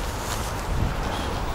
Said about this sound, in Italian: c'è abbastanza vento stamattina